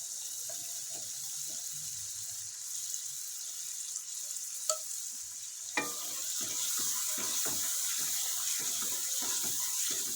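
Chicken white karahi frying in a pan, with a constant hiss of sizzling oil that grows denser partway through, broken by a couple of sharp clinks and then a run of rhythmic scraping stirs.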